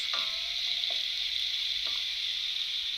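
Steady sizzling of vegetables sautéing in a steel pot, with a few soft stirring clinks, close and moderately quiet.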